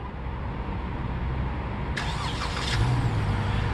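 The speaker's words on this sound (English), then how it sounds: "hit this button here twice to start up the vehicle" A 2018 Dodge Charger fires up by remote start: a sudden crank and catch about halfway through, settling into a low, steady idle rumble heard from close by.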